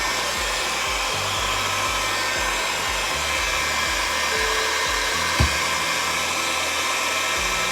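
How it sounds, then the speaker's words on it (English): A heat gun runs steadily throughout, drying chalk paste on a craft stencil project; the continuous blowing roar stays loud and even, with a brief small knock near the end. "Well, as quiet as you can be with the heat gun."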